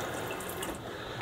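A tap in a camper van's pressurized water system runs steadily, a continuous close hiss and splash of flowing water with no pauses and no voices.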